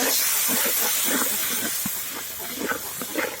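Water splashed into a pan of frying spices and onions for a chicken curry, producing a loud, steamy hiss with bubbling crackles that ease slightly over a few seconds.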